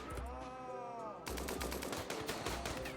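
Video game gunfire in RimWorld as colonists shoot at a lynx: rapid bursts of shots crackle in quick succession, with a denser volley in the second half, loud and close.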